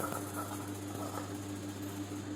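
A sewing machine stitching the lining of a blouse runs as a continuous, even mechanical hum with a faint rhythmic whir, close and steady throughout with no talking.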